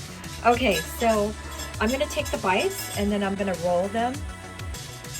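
A dog eats from a bowl in a kitchen while someone talks, its light clinks and clatters running faintly under the speech.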